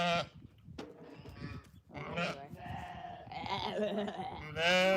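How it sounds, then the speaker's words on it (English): Several sheep bleat close by in quick succession, overlapping wavering cries with short gaps between them. "Oh, hello, sheep"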